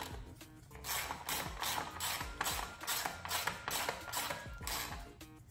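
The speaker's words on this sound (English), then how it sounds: "Coming in with my Torx bit." A Torx bit drives a screw into a plastic housing on a 1.5L Ford Fusion, giving close, steady ratcheting clicks repeated in a regular rhythm with no speech.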